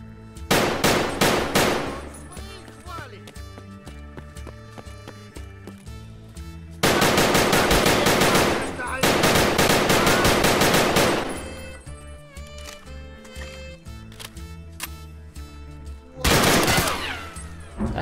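Automatic rifle fire in the shooter game Escape From Tarkov comes in loud, close, rapid bursts, with long sustained volleys separated by short pauses of quieter ringing tail.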